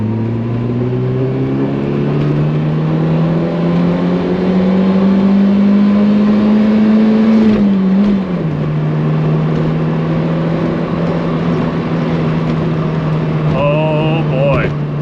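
A Fiat X1/9 with a swapped camshaft accelerates hard in second gear past 55 mph. The engine drone climbs steadily and loudly in pitch from inside the car, wavers briefly midway, then holds a high, strained tone.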